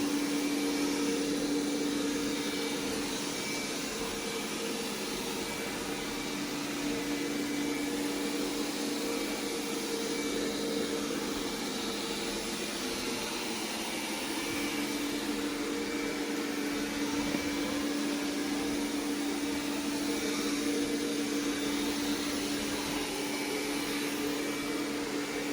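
Roborock robot vacuum cleaner working across a kitchen floor, a steady whirring hum with a constant motor tone that carries on unbroken, close and moderately loud throughout.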